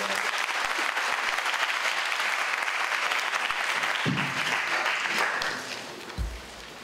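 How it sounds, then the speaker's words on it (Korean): Sustained applause from a large audience at a student council general assembly after a budget report passes, dense steady clapping filling the room for several seconds before thinning out near the end. "수고해주신 사무장님께 큰 박수 부탁드리겠습니다"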